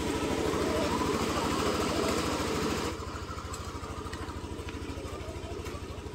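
A Yamaha Aerox scooter engine idles after an oil change, a close, steady low throb with a fast even pulse that drops slightly in level about halfway through, with no talking.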